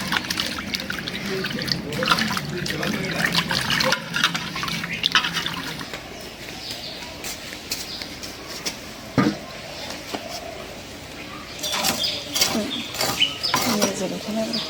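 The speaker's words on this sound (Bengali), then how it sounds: "এখন মাছ দুটো একটু ধুয়ে নিব।" Two large river katla fish, over a kilogram each, being rinsed in water in a home kitchen: steady splashing and trickling with occasional clinks of a pot, close by, with a voice talking at times.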